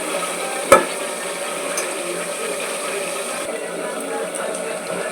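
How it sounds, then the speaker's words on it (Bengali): Marinated chicken is stir-fried in a handi, making a steady low sizzle. A sharp metallic scrape from the stirring stands out early, with faint clinks afterward. "তো এই দেখুন চিকেনটা কষানো হচ্ছে"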